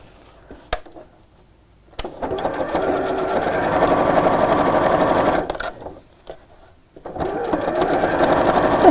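A domestic sewing machine runs in long steady stretches stitching a strap on a quilted tote bag, stopping briefly between runs with sharp clicks as the needle is set and the fabric pivoted.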